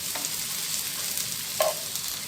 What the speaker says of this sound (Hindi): प्याज को हम गोल्डन ब्राउन होने तक इसको फ्राई करेंगे।